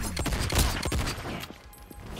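Rapid gunfire from a Mortal Kombat 1 fight at a PlayStation league finals, crackling in a dense burst of shots close up, with no talking.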